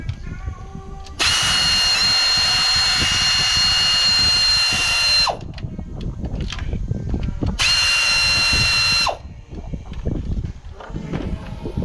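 A power tool runs in two long, loud bursts, removing a nut from a stud during teardown of a Kia 2.4L engine, with clanks and handling noises of the workshop filling the gaps between runs.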